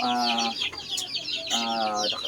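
A Brazil chicken in a backyard flock clucks in two repeated bursts of loud, close calls, with softer chatter from other fowl between them.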